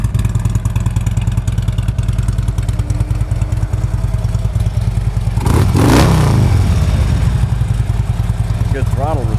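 Harley-Davidson Road King FLHR motorcycle engine running loud and close with a steady low rumble, then a sharp throttle blip that rises and falls around the middle.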